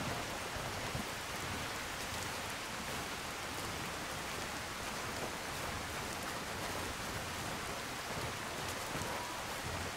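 Rain falls in the video game Skyrim, modded with Requiem: a steady, even hiss of downpour that continues unbroken throughout, with no voices.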